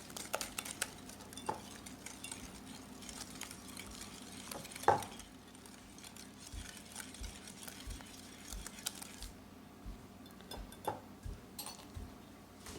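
Desi-style pudding mixture being whipped with sugar, a faint steady whisking and stirring against a bowl with small clinks and an occasional louder knock, with no voice.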